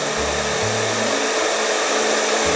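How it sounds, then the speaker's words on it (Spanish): A household hair dryer for drying hair after a bath runs steadily, a loud continuous whirring blow with a low hum that shifts slightly at the start, heard alone without talk. "un aparato que nos sirve para secarnos el pelo después de bañarnos, que da calorcito y así se va secando"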